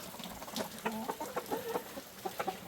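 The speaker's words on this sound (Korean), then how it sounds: "저렇게 자두를 저렇게 쪼사 먹고 있습니다. 닭들은 못 먹는 게 없네요." Chickens in a backyard coop cluck softly while pecking at plums, giving a series of short, fairly faint clucks in an irregular rhythm with some quiet background noise.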